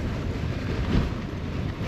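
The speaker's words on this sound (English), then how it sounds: "Windy as hell." Strong winter wind at a Lake District wild camp, roaring and buffeting continuously, with a low rumble swelling briefly midway; no voices.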